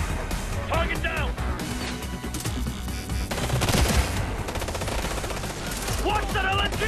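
Enemy light machine gun fire in the Ghost Recon: Future Soldier video game, sustained bursts of automatic gunfire with crashes and a loud peak around the middle, heard under shouted voices.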